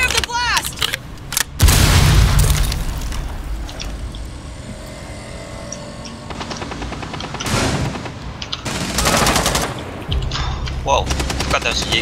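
A blast erupts in a Rainbow Six Siege match with a heavy, booming burst near the start, followed by quieter stretches and several sharp bursts of gunfire-like cracks and debris over twelve seconds.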